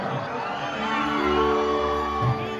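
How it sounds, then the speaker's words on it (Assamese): A large crowd at a Bihu performance whoops and shouts together, a loud, sustained collective cheer with rising voices and a burst near the end. "এটা জোৰদাৰ উকি লাগে উকি দিলে ভাল লাগিব একেলগে"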